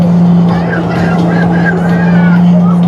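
A motorboat engine drones loudly and steadily during island hopping in Boracay, with a strong low hum, while voices talk and exclaim over it.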